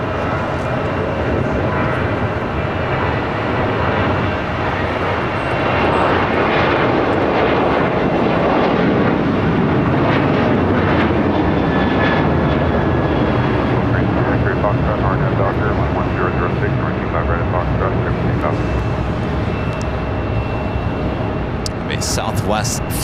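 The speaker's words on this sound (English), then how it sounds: "Next takeoff here on the south side, Alaska Airlines flight 1332, heading to Cabo, 737-800." An Alaska Airlines Boeing 737-800 takes off from the south side at LAX, its jet engines a loud, sustained roar filling the whole stretch, with a voice talking over it.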